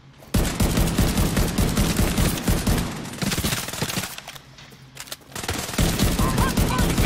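Sustained automatic gunfire from The Division 2 video game, dense rattling bursts that run almost continuously, break off briefly and then resume at full loudness.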